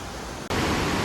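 A waterfall cut into a rocky gorge gives a steady, dense rushing roar. It jumps louder after a brief break midway, with no voices.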